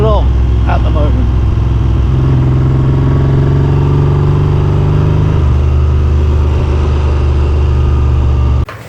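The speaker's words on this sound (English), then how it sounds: "We got a pretty crook engine, but hey, we're still rolling along at the moment." A Triumph Trident T160 motorcycle with a rough, ailing engine drones steadily while riding through the Peak District, a loud continuous mid-pitched engine note with wind rumble, close and constant.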